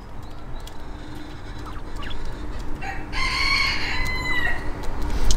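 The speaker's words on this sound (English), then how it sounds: "These are Japanese quails, and I believe they are called Coturnix quails in America." Japanese Coturnix quails, a show-bird laying breed, call close by in a series of shrill, buzzy crowing phrases over a noisy background, the calls growing louder and busier toward the end.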